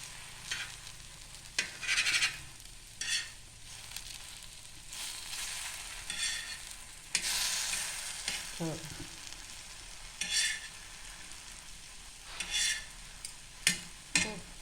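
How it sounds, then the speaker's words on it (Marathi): Ripe banana sweet sizzles steadily in a pan over very low gas, with a soft continuous frying hiss broken by occasional stirring and scraping clinks of a utensil against the pan. "आता आपण ह्यांना एक साईडून पुन्हा फ्राय होऊन देऊया"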